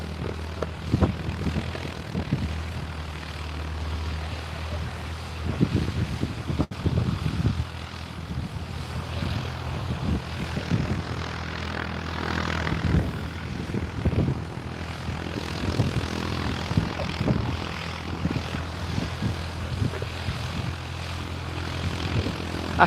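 A light propeller aircraft at Barton Aerodrome moves off after refuelling, its engine a low, throbbing drone with uneven surges, moderately distant and steady over outdoor wind noise.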